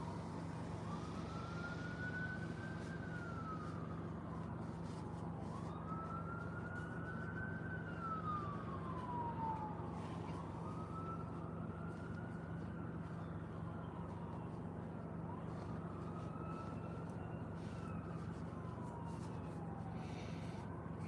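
A police siren wails in steady rising-and-falling sweeps on an emergency vehicle running with lights and siren, heard faintly from a distance over a constant low hum.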